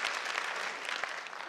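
Applause from an audience at a PCMC civic event, a brief burst of dense, steady clapping with no talk over it.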